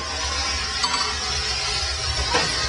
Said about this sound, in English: The sound you hear is the steam atomizing the oil as it comes up out of the burner.